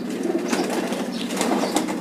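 A home-kept racing pigeon coos softly, in a few low murmuring calls close by against a light background rustle.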